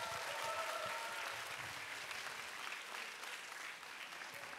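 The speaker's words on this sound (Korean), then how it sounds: "다시 한번 박수를 부탁드리겠습니다" Distant, soft applause from an audience at a Jeju-dialect children's song festival, a continuous even patter of many hands with no voices on top.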